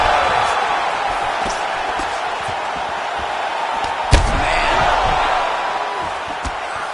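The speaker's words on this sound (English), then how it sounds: "you hear the crowd react every time they come together because they understand the power that these guys are striking with" A fight crowd in a noisy arena roars and murmurs, with one sharp heavy impact followed by a swell of crowd reaction. A commentator's voice runs underneath.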